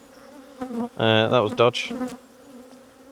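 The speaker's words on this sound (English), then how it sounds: "I had 4 bees inside my veil then." Honey bees trapped inside a beekeeper's veil buzz loudly right at the ear, a close, pitched drone that swells and breaks in short bursts, with someone speaking briefly alongside.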